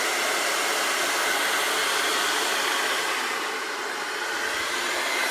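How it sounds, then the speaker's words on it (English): Hair dryer running on medium speed during a hair-smoothing session, giving a loud, continuous, close airy roar that stays even throughout with no talk. "So let's go ahead and turn on our dryer."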